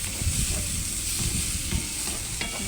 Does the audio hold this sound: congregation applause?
no